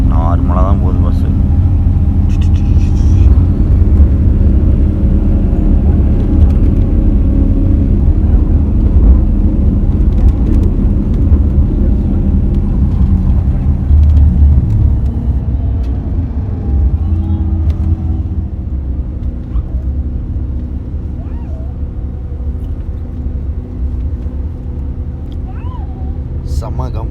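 Ashok Leyland premium AC sleeper bus cruising on the road at moderate speed, a steady loud low engine and road rumble with tyre hiss that eases slightly toward the end, heard from inside the cabin.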